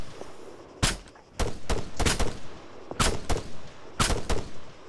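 Gunfire in the Arma 3 video game, a string of sharp single shots in irregular bursts, some doubled in quick succession, moderately loud over a quiet hiss, with no talk.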